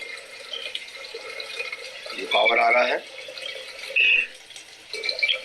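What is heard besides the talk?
water flowing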